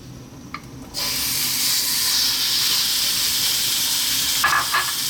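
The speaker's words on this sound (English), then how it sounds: "we're going to pop in our star anise. It's going to give it a lovely flavour, and then we're going to drop our beef in" Beef strips hitting a hot wok with star anise for a stir fry, a sudden loud sizzle that bursts in after a quiet second and keeps up as a steady close hiss with a few brief clicks near the end.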